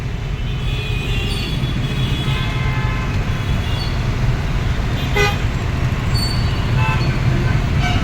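Dense road traffic in Hyderabad beside a construction site, a loud continuous roar of engines with several horn toots rising above it.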